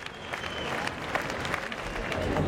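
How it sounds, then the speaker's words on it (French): Marchers at a peace demonstration applaud in a short, even patter of many hands, moderately quiet and steady from start to finish. "Peu de slogans, mais des salves d'applaudissements régulières"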